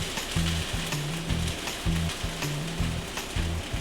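Onions and seasonings sizzle in a hot pan for chicken tikka masala, a steady close hiss with a rhythmic low scraping pattern as the mixture is worked, no voices.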